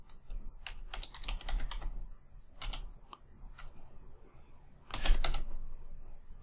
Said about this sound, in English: we type out LS